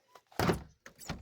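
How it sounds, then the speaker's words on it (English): Freezer door on a farm swung shut, a soft thump followed by a second muffled knock, close and brief with no talking. "Freezer door is closed."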